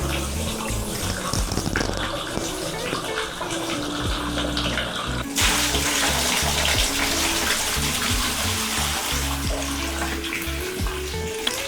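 Liquid being poured back into its container, a continuous splashing gush that grows louder partway through, with no talking.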